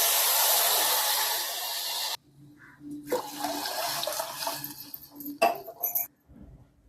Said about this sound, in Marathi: आता मी यामध्ये 2 ग्लास पाणी टाकून घेणार आहे